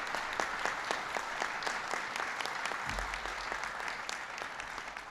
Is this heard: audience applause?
yes